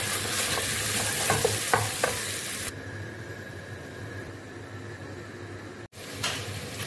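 Steady sizzling of potatoes frying with spices in a pan, with a few scraping stirs near the start and a brief clatter near the end, no voices.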